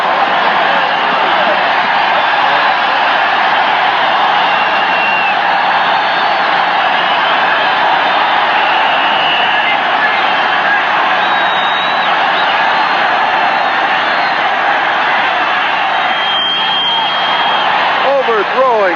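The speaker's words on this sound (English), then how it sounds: "Listen to the crowd." A football stadium crowd at a 1981 AFC wild card game, Buffalo Bills against New York Jets, roars in a loud, sustained wash of cheering and whoops throughout, with faint whistles rising above it.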